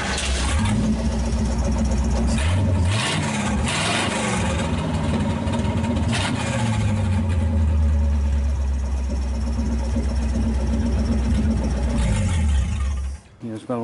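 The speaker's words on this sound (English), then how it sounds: "it probably sounds like it's wide open because there's no exhaust on it." A 1931 Ford five-window coupe with a Cadillac flathead V8 and no exhaust runs loud and raw, revving and rumbling close by for over ten seconds before cutting out, with some talk underneath.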